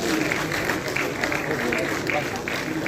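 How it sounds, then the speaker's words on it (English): Audience at a CSIR-SERC Diamond Jubilee celebration applauding retirees, a dense, steady wash of clapping from a large crowd for a few seconds without pause. "honor the retirees with a big round of applause"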